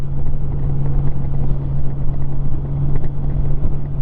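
A 2002 Honda GL1800 Goldwing motorcycle out on a ride, its engine a steady low, droning rumble with a constant hum and wind noise throughout, close and loud with no voices.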